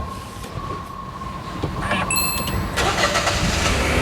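A 2022 Nissan Almera is started from inside the cabin, with a steady mechanical hum rising slightly in level as the engine catches. A few short high electronic tones sound partway through, and no one speaks.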